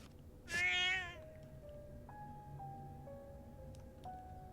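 A cat in a horror video game gives one clear, rising meow up close, followed by soft tonal game music.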